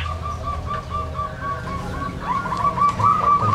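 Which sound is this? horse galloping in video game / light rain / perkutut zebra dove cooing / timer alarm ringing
perkutut zebra dove cooing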